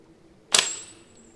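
A 14 mm whistling sling bullet with a 4 mm hole shoots past, a single sharp burst followed by a brief high-pitched whistle that fades within a fraction of a second.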